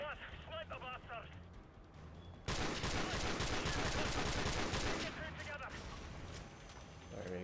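Gunfire in Call of Duty 4: Modern Warfare Remastered aimed at a helicopter: a dense, loud burst of continuous shooting erupts after a quieter stretch with electronic beeps and then eases into rumbling game noise.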